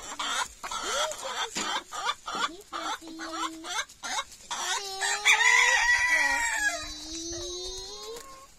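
Chickens clucking in a farmyard while a rooster crows, with a string of sharp clucks and squawks followed by a long, loud crow close to the microphone.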